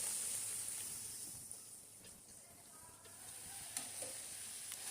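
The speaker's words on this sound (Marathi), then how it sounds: "अशाच प्रकारे मी आणखी पुऱ्या काही तळून घेते" Puris deep-fry in hot oil, a quiet, even sizzling hiss that carries on steadily with a few faint clicks.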